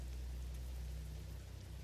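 Steady rain in the American Truck Simulator game, a faint, even hiss of falling drops with a low background rumble and no distinct gusts or thunder.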